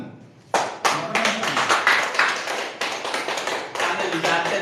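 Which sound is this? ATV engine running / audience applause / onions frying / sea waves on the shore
audience applause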